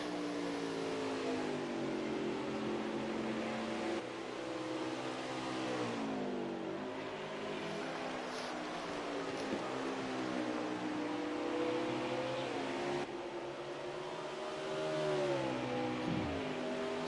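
Race car engines in a video game race at Canadian Tire Motorsport Park, a continuous droning roar with pitch rising and falling through gear changes and corners, no voices.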